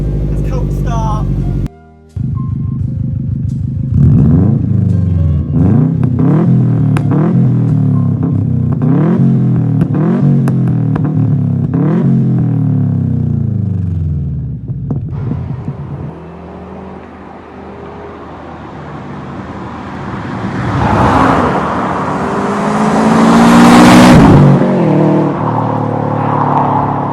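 A Subaru Impreza WRX with an H&S Raptor cat-back exhaust starts cold. The engine catches, then revs in repeated rising bursts and settles into a rough idle, with people talking nearby later on.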